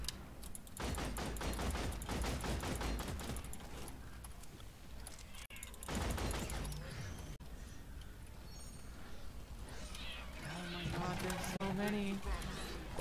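Rapid gunfire from the drone Bosco in the video game Deep Rock Galactic, dense bursts of loud automatic shots crowding the first half, then thinning out under other game noise.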